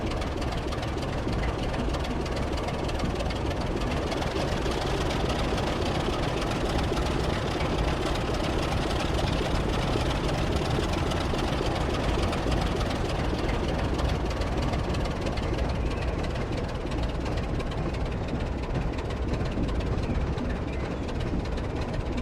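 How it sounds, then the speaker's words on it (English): Diesel brake tender engine from the Great Western Works pack in Train Simulator Classic, a steady heavy low rumble with a constant idling drone, loud and unbroken throughout with no talk. "Let's have a listen to the sounds of the brake tender."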